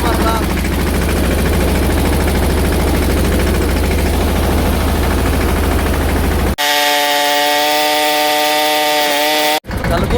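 A tractor-mounted sprayer applies pesticide on a field, its loud steady engine drone running for about six seconds before cutting to a different tonal, music-like segment.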